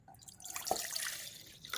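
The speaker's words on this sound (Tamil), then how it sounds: "இப்போ நான் வந்து ஒரு கிளாஸ் தண்ணி ஊற்றிக்கிறேன்." A glass of water is poured into a silver cooking vessel before heating, a quiet close splash and trickle with a few small drips.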